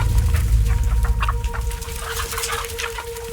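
Chickens at a village poultry farm cluck in busy, agitated bursts, with steady background noise and a faint hum underneath and no talking.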